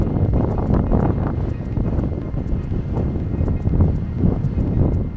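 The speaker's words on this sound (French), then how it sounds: "il y a quand même encore beaucoup de vent" Strong wind outdoors on a road trip in Gaspésie, Québec, loud low buffeting rumble against the microphone that surges and eases continuously without a break, no voices.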